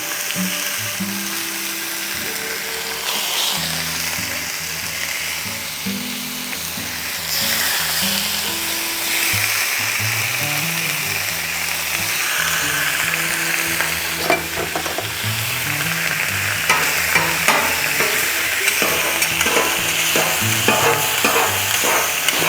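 Sliced turkey frying on a flat griddle, a steady close sizzle with scraping and stirring of a spatula running throughout, growing slightly louder and busier toward the end.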